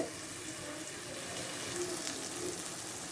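Water poured into masala frying in oil for a thick sea crab curry, giving a continuous soft hiss and bubbling sizzle from the pan that holds steady for a few seconds.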